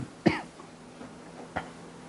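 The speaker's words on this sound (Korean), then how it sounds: "기침을 좀 하네." Two short coughs from one person indoors, a sharper one followed by a softer one about a second later, fairly close and otherwise quiet.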